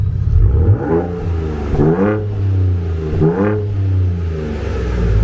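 A Ford Ranger Raptor V6 idles with a deep, steady rumble, broken by three quick revs that rise and fall in pitch, recorded close by.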